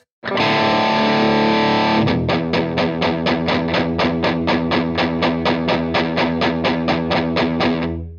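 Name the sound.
mini guitar amp with deep switch engaged, distorted gain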